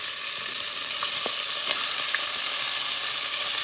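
Pork pieces browning in olive oil in a Dutch oven, a loud, dense, continuous sizzle and crackle with a few small pops and spatters, close up and with no one speaking.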